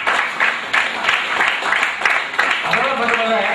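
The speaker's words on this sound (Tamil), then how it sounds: "அவங்களுக்கு மறுபடியும் பலமான கைத்தட்டை கொடுத்துலாம்" Audience applause at a Tamil-language talk, a few seconds of dense clapping from a crowd with a voice over it.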